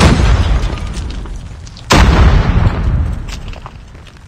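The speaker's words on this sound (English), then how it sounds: "Grenade out!" A grenade goes off in Call of Duty Mobile during a ranked Search and Destroy match, one loud, close, booming blast cutting through ongoing rumbling battle noise, then a long fading roar, with no talking.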